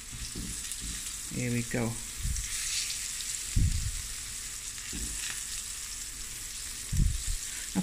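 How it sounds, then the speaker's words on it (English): Snoek roe sizzles and spits in a nonstick pan over medium heat, a steady bright frying hiss with a few soft bumps of movement; a voice speaks briefly early on. "when you fry it on a medium heat, so you don't brown the outsides too quickly"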